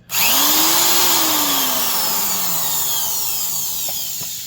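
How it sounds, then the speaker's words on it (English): A 1981 Makita half-inch spade handle mixing drill spins up abruptly and runs loud and close with a high whine that slowly winds down in pitch over several seconds. "This is a 42-year-old Makita drill."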